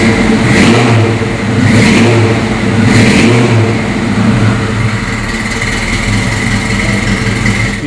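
A 1968 Ford Shelby Mustang GT350 convertible's V8 runs loud and close, its engine rising in three strong revs and then settling into a steady, rumbling idle.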